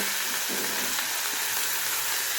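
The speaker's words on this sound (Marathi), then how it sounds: "थोडी भाजी शिजण्यासाठी आपण ह्याच्यात ॲड करूया थोडंसं पाणी" Water is added to raw banana bhaji frying in a pan, setting off a loud, continuous hissing sizzle that stays dense throughout, up close with no talk.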